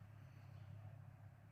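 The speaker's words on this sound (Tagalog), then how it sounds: "murag na tunog ng sasakyan." Brief stretch of a faraway vehicle engine, a soft, continuous low hum under quiet background.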